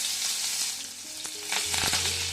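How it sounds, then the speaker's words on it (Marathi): Cumin, garlic and ginger crackle in well-heated oil for misal, a close, steady sizzle broken by a few clinks of a spoon against the pan, no speech. "तेल चांगलं गरम झालं की सगळ्यात आधी आपण यामध्ये ऍड करतोय जिरं"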